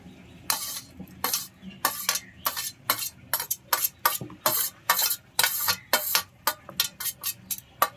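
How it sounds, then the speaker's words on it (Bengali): Minced meat that has been fried is stirred into beaten egg in a bowl, with a utensil scraping and clinking rhythmically in quick, regular strokes, close and clear with no talking. "এবার আবার ভালো করে ডিমের সঙ্গে এটাকে মিশিয়ে নেব"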